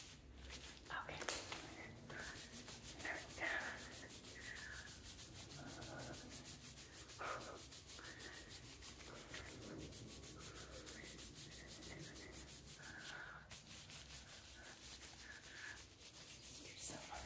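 Bare hands rub vigorously over the skin of an upper chest during a close-up massage, giving a steady soft swishing friction with a few louder strokes while a quiet voice speaks intermittently.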